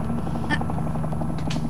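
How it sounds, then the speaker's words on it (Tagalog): A helicopter circles overhead, its rotor producing a steady, continuous droning hum that holds evenly throughout with no talking. "May helicopter na nagalibot-libot sa ibabaw."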